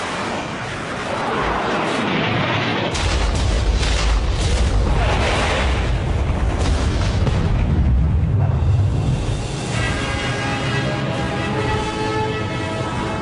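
Missile explosions in an animated movie: after a short quiet lead-in, a loud, sustained roar of deep booming blasts and rumbling debris fills the rest of the scene.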